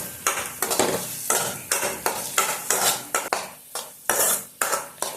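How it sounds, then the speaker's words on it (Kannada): Egg rice with garam masala, turmeric, pepper, chili and coriander powders is stirred in a frying pan, a spoon scraping and clinking in quick repeated strokes over a soft sizzle. "ಇವಾಗ ಎಲ್ಲದನ್ನು ಮಿಕ್ಸ್ ಮಾಡ್ಕೊಳ್ಳೋಣ."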